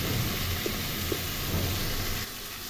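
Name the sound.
onion and eggplant frying with spices in a pan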